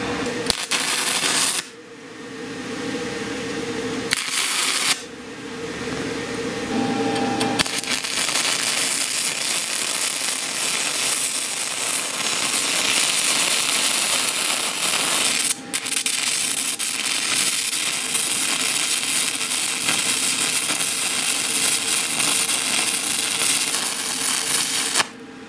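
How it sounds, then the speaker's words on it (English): A YesWelder Firstess CT2050 stick welder runs 3/32 7018 rods on 1/8-inch metal, giving a harsh, continuous crackling sizzle close by. Short pauses break it up early on, then one long, unbroken burn follows. "I'm going to weld this metal here"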